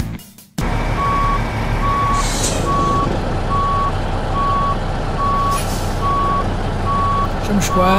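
A Peterbilt 379 truck in American Truck Simulator reverses to hitch a trailer, its loud diesel engine idling steadily under a regular series of evenly spaced reversing beeps, with brief air-brake hisses.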